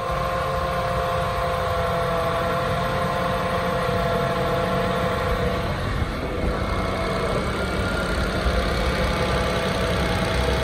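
A Renault Captur 0.9 TCE engine idles steadily after an oil and filter change, a continuous close, even hum with a faint mechanical tick throughout and no talking.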